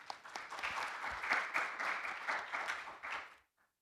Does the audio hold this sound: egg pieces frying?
no